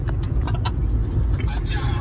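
Car idling close behind a vlogger on a road near Kolhapur, a steady low engine rumble with faint traffic around, with people talking over it.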